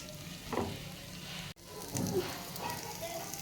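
Chicken pieces fry in hot oil in a pan with a steady, close sizzle and crackle, briefly interrupted by a stir.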